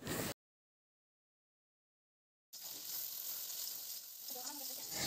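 Chicken being stir-fried (kosha) in a pan with sugar added, a brief burst of sound before a dropout, then a steady close sizzle with scraping and stirring.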